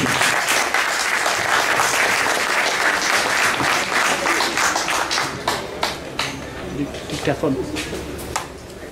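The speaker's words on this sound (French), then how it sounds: "S'il vous plaît, vos applaudissements." An audience at a formal ceremony in Marseille applauds the outgoing Senegalese consul general, dense sustained clapping that gradually thins into scattered individual claps toward the end.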